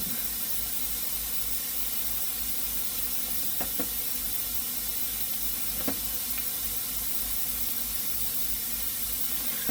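A constant broadband hiss of compressed air runs throughout, steady and unbroken, with a few faint clicks and knocks in the background.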